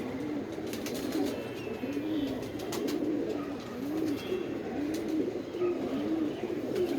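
Several pigeons coo steadily and close by, with a rolling, repeated rhythm of low warbling calls and no talking.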